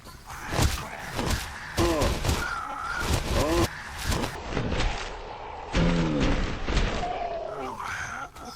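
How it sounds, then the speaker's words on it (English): Rapid jab melee combo in Resident Evil 7, a run of quick heavy thumps and impact hits with grunting vocal sounds from the character, dense and loud throughout. "now I'm going to show the first combo, which is a rapid fire quick jabs"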